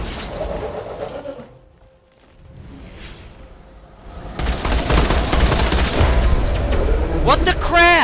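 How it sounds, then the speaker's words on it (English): Grenade blasts and gunfire in the Borderlands 2 video game. Dense bursts of shots and explosions come in loud, crowding the second half, with a quieter lull in the middle. "I'm gonna use my more viable grenades."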